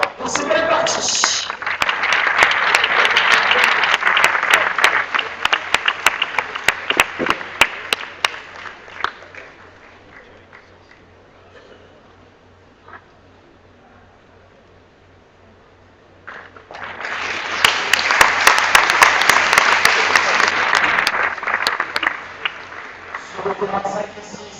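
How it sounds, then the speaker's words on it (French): Spectators at a semifinal applaud the players in two long bursts of clapping, loud and sustained, with a quieter stretch of scattered claps and murmur between them. "Amis spectateurs, vous allez applaudir les acteurs de ces belles parties."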